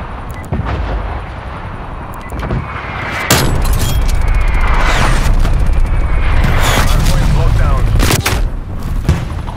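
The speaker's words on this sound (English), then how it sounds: "Calling in artillery." An artillery strike lands in Call of Duty Black Ops Cold War on the Moscow map, a dense run of loud, overlapping booms and crackling explosions that builds and keeps rumbling, with faint in-game voices beneath.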